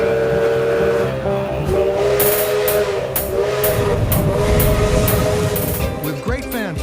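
Century-old steam locomotive pulling up to a station platform in Ecuador, loud rhythmic hissing bursts of steam over a rumbling engine, with a whistle-like tone and voices in the background.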